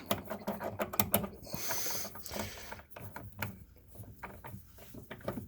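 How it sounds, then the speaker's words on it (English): Torx 20 socket turning out a screw from a Ford Ranger door handle, 2003 model: a close run of small metallic ratcheting clicks and rattles, with a brief scraping rasp in the middle, no talk. "So basically you just pull out the Torx 20 screw."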